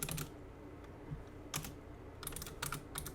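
Someone types code on a computer keyboard in a quiet room: short, scattered bursts of crisp keystrokes separated by pauses, with no talking.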